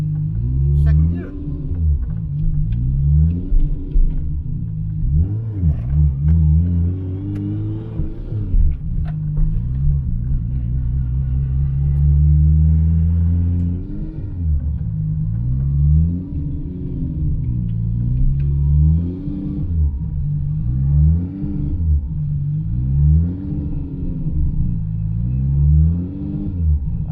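Engine of an abandoned Toyota Supra rumbling while being driven in second gear, a loud, deep, continuous drone with surging rises and dips throughout, with people talking over it.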